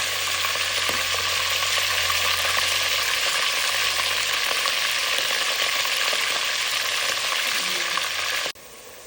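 Steady, dense sizzling of fish and onions frying in a pan, continuous and fairly loud, with faint stirring clicks before it cuts off near the end.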